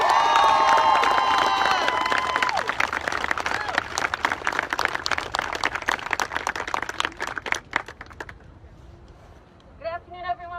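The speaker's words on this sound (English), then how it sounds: "let's give another round of applause for Tristan" A protest crowd applauding and cheering for Tristan, dense clapping with shouts and whistles that gradually thin out into scattered claps, then a voice cuts in near the end.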